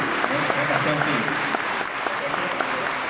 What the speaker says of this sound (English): Ladies and gentlemen, one more round of applause, please.